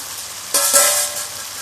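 Masala fries in a covered pan. Near-silence gives way to a sudden bright burst of close sizzling that carries on steadily, with a faint tone at its start.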